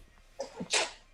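A single close sneeze, set off by heavy spring pollen, comes as a short build-up followed by a loud breathy blast, with no talking around it.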